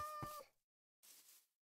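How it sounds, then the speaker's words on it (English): Cat meowing in the Minecraft video game: two short, faint meows separated by a brief silence, alone with no talk. "I can hear a cat."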